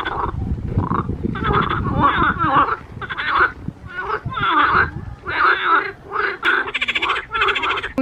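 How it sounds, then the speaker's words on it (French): Frogs croak repeatedly in a marshy garden landscape at Amiens, with loud, close, rhythmic bursts of calls one after another across the whole stretch. "On peut voir des tonnes de petits animaux, que ce soit des grenouilles."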